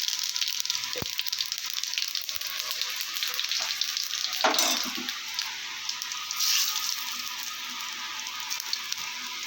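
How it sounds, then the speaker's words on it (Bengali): Dried red chillies and cumin crackling in hot oil for a tempering of kalai dal with fish head, a steady close sizzle with a couple of brief louder flare-ups and faint knocks. "শুকনো লঙ্কা দিয়েছে জিরে ফোড়ন"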